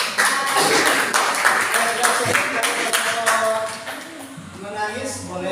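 A classroom full of people clapping after a group presentation, a dense patter of hands over talking voices, loud and close, easing slightly toward the end.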